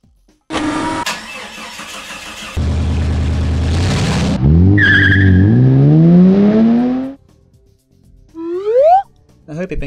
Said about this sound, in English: It's time for the supercar, Sarge.